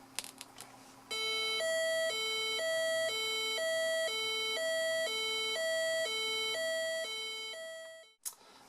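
A French SMUR emergency vehicle siren, a loud two-tone hi-lo wail alternating steadily about once per second for roughly seven seconds, close and clear, then cutting off.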